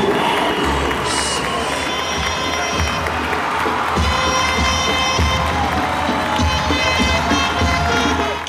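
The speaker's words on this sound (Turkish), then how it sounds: "Ve şimdi şampiyon, takım şampiyonu Stone Brothers'ı alkışlayalım." A loud crowd at a Turkish power wrestling event cheers and claps for the team champions Stone Brothers, a continuous roar of voices and shouts with scattered clapping throughout.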